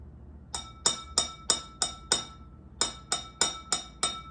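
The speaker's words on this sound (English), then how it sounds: "When you have a glass and you have something inside of it, it makes a sound." Glasses holding different amounts of liquid are tapped in a quick row of bright, ringing clinks, first five strikes, a brief pause, then six more, each note decaying between taps, close and clear without talk.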